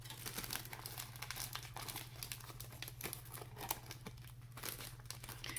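Cellophane sheet being crinkled and handled while making craft wings, a steady close rustling and crackling throughout with no talking, over a low steady hum.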